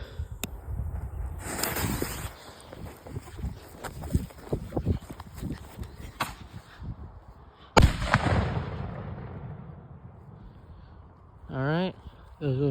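A small firecracker called the Little Uzi goes off outdoors in a sharp burst, its bang landing around the eight-second mark and fading into a crackling tail, with scattered thumps and footsteps around it.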